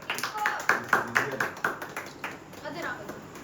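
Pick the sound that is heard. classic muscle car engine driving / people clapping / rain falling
people clapping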